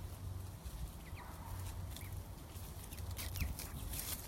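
Chickens in a backyard chicken run, soft scattered clucks over a steady low rumble of outdoor background noise, faint and fairly distant.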